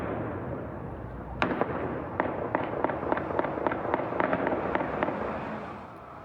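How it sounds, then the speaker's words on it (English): Explosions and gunshots crackle during a huge fire at a prison in Iran: a sharp bang followed by a rapid series of distant pops and bursts, irregular and moderately loud over steady background noise. "Explosions and gunshots could be heard in videos circulating online."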